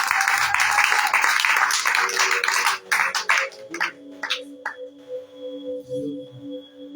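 A church congregation at a prayer vigil breaks into loud, dense applause that fades after a few seconds into scattered claps over a sustained tone.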